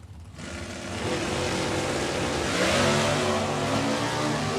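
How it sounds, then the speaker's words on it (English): High-RPM B-Modified race car engines rev hard at a drag strip, a loud, continuous roar that builds and stays strong without talk. "I just love the way them high RPM engines sound."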